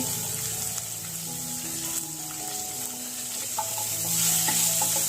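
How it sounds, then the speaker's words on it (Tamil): Onion, tomato and green chilli frying in a pan for a chutney, giving a steady close sizzle with scraping stirs, with a faint tonal hum running underneath. "இது கொஞ்சம் நேரம் ஃப்ரை ஆகட்டும்."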